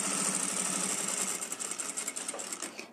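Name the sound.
sewing machine stitching a 3 mm finishing seam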